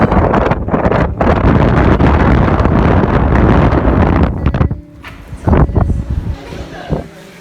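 Heavy rain and strong wind: loud gusts roar and buffet the microphone for about five seconds, then drop away abruptly, leaving quieter background with a few short bumps.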